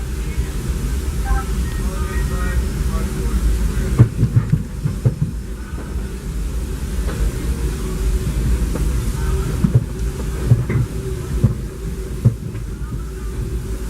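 A Disneyland Railroad train rolls along behind the Ernest S. Marsh No. 4 steam locomotive, a steady low rumble of wheels and cars with occasional sharp clanks and knocks from the track, heard from on board throughout.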